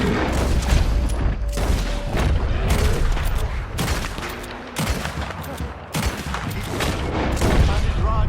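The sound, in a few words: gunfire in video game Red Dead Redemption 2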